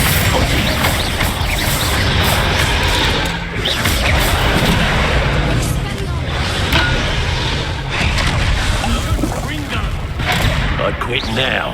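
Confringo fire spells go off in Hogwarts Legacy as dense, overlapping booms and crackling blasts, loud and close, over a continuous roar of battle with a voice calling out through it.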